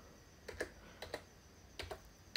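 A computer keyboard is typed on at a laptop running a 3270 mainframe terminal emulator, with a few quiet, separate clicks and short taps in pairs over a faint background hum.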